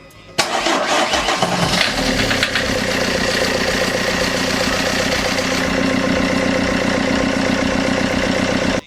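A Vauxhall Corsa turbo engine cranks and catches almost at once, then holds a loud, steady, busy idle with a faint knocking rhythm running under it, close up with no talk.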